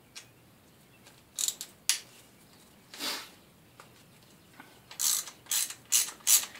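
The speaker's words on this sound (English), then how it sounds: "Grab hold of the ratchet." Ratchet loosening bolts on a Quad 4 engine during timing chain removal: several quick bursts of close, crisp ratcheting clicks separated by pauses, growing denser toward the end.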